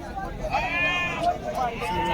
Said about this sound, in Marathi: 3 महिन्याचे बकरी आहेत